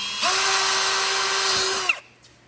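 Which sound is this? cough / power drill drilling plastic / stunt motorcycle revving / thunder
power drill drilling plastic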